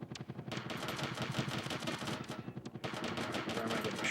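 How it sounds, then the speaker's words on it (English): Rapid machine-gun gunfire in the Sega Saturn helicopter game Soviet Strike, dense repeated bursts rattling nearly continuously at steady loudness with a short break midway. "Where am I getting shot at from?"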